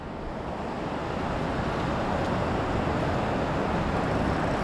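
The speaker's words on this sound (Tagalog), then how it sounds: "Mas malakas yung alon dyan eh." Ocean waves in open water during deep-sea fishing, a steady, dense wash of surf and rushing water that holds constant throughout with wind-like hiss and no distinct breaks.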